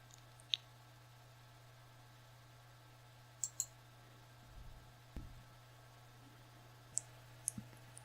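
Several faint, sharp computer mouse clicks arrive singly and in pairs over a quiet background hum.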